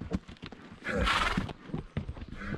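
A horse on a trail in the Mexican monarch butterfly forest area snorts and whinnies, with hooves clopping nearby in a short, loud, uneven burst.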